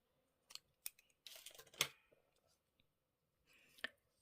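Scissors snip crochet yarn in a few sharp, close clicks, with light rustling of the yarn between cuts in an otherwise quiet room.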